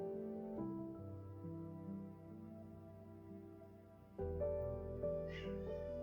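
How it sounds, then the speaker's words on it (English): A faint cat meow rises briefly over steady background music, the call soft and somewhat distant. "Oh, my cat wants out, of course."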